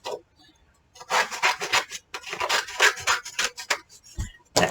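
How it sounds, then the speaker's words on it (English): Greeting card being trimmed to size for a die cut machine during card-making, heard as loud bursts of rasping, scraping cutter strokes, one short pause early and a steady run after, with no talk. "we need to trim our card down because it ain't going to fit through the die cut machine"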